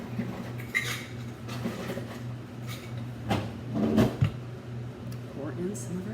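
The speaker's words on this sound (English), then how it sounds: "I'm going to start out with some ice." Ice cubes clatter into a glass or shaker for a vodka martini, a few sharp rattling knocks standing out over a steady hum and background voices.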